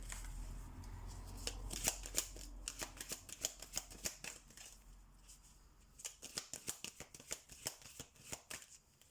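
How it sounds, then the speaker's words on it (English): Cards from a fairy oracle deck being shuffled and handled, a close run of quick papery riffles and flicks coming in two bursts with a short lull between. "I'm just going to get a card from my fairy deck here as well."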